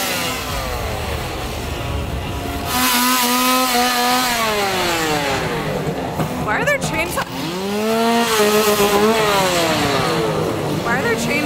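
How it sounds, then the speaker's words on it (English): Chainsaws rev repeatedly at a Halloween Horror Nights theme park event near the Simpsons area, loud rising and falling engine whines in overlapping bursts set against crowd noise. "Why are there chainsaws in the Simpsons area?"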